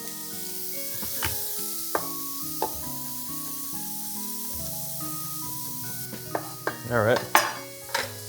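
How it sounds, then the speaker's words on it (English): Garlic pieces sizzling in a pan with onions and herbs, a steady close hiss with a few stirring bursts toward the end, over background music, with someone briefly speaking. "Let's add a couple pieces of garlic."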